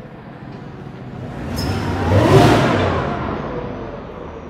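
A car pulls up and revs, its engine note rising to a loud peak as it passes close by and then easing away, with no talk over it.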